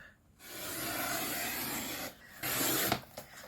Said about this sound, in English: I want to cut this into a strip.